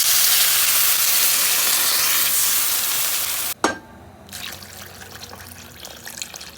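Water poured into a pan of fried potatoes, a loud, steady hiss and splash that cuts off abruptly, followed by softer bubbling and simmering.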